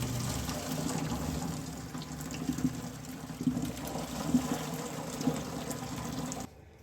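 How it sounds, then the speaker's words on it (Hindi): Water draining from cooked rice through a fine cloth laid in a basket during chicken malai biryani preparation, a soft continuous trickle and patter with a few small splashes, fairly quiet, ending abruptly. "देखिए इस तरह से पूरा इसका पानी नीचे निकल गया"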